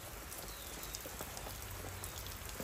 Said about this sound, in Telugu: మళ్ళా వాన పడుతూనే ఉన్నది